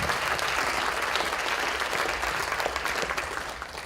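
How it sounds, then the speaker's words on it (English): An audience bursts into sustained applause for panelists at the close of a health equity conference keynote, with dense, steady clapping filling the hall and tapering slightly at the end. "Let's give them a round of applause."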